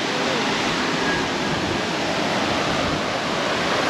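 River water pours over a dam at a Jamaican riverhead, a dense, steady roar of rushing water filling the whole clip, loud and continuous with no voices.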